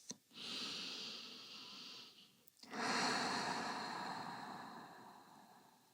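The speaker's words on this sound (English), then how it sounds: "Take a few calming breaths in through the nose, out through the mouth" Calming breaths during a power yoga session, drawn in through the nose and released through the mouth: two long, soft airy breaths, close and steady, separated by a brief pause.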